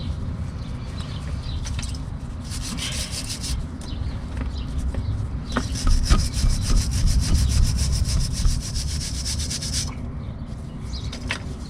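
Old brake pads from a Rover P4, probably asbestos, are scrubbed with a wire brush in repeated bursts of harsh, close scraping, with short pauses between strokes.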